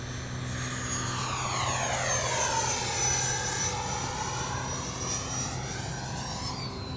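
An H-King Flycat V2 70mm electric ducted fan RC model jet roars steadily overhead, its high-pitched fan whine sweeping up and down in pitch as it passes and maneuvers through aerobatic rolls, with no talk over it.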